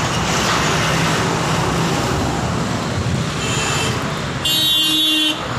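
Steady roar of busy road traffic with vehicles rushing past close by on a market road, a brief horn toot near the end, no talking.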